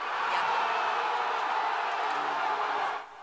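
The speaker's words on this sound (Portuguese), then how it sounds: "E a torcida, que já estava aquecida, foi ao delírio" Brazilian football stadium crowd roaring after a Neymar goal in a national team qualifier, a dense, steady, loud wash of cheering that drops off slightly at the end.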